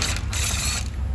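A ratchet with a 6mm Allen key socket clicks steadily as it turns a rear brake bolt on a 2010 BMW 535i, a loud, close, continuous run of metallic pawl clicks with nothing else heard.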